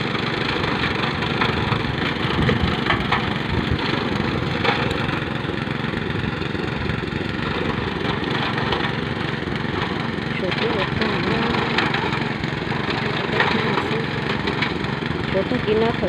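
A gasoline engine saw cuts through wood with a loud, steady, buzzing drone that holds for the whole stretch, and voices talk underneath it.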